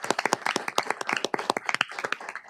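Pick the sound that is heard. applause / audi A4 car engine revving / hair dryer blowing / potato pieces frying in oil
applause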